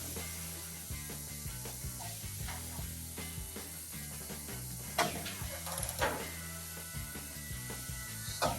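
A hand ratchet tightens a rocker on a 1981 Chevrolet C10 engine, making repeated quick clicking bursts in close, uneven runs over a quiet garage background.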